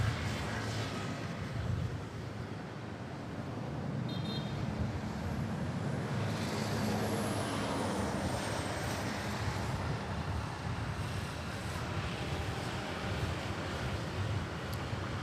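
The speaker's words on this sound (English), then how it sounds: "Gusto ko lang tignan tong Singapore Airlines A350. This is headed to runway" A Singapore Airlines A350 airliner taxis toward runway 06 at Manila Airport, a steady distant engine rumble with some wind noise lasting throughout.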